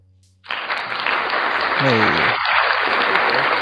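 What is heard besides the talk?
applause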